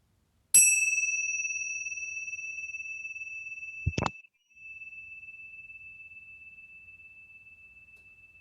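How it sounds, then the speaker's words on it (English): A single bright bell strike rings out and sustains a long, pure tone, followed by a second soft strike partway through, in otherwise near silence. "inhaling at the sound of the bells"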